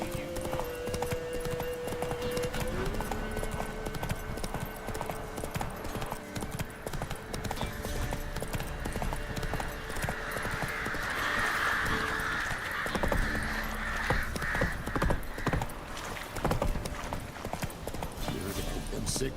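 Roach, Geralt's horse in The Witcher 3: Wild Hunt, gallops with a steady, loud clip-clop of hooves throughout, with brief whinnies, over continuous in-game dialogue and ambient sound.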